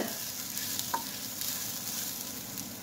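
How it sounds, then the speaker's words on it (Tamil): Rice and coriander seeds dry-roasting in a pan, a steady close sizzle and crackle with faint popping and a light stir, no voices. "அரிசி பொறிஞ்சு வருது பார்க்குறீங்க"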